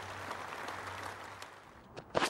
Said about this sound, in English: terrific round of applause for Liam Dawson